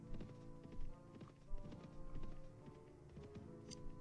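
Horse hoofbeats in Mount and Blade: Warband, a quiet irregular clip-clop of hooves with a faint background hum and a few soft taps.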